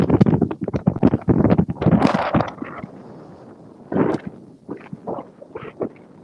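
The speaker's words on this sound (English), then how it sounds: "it really is super windy today." Strong wind at the Grand Floridian resort buffets the microphone in heavy, irregular rumbling gusts, loud at first and then easing into quieter bursts.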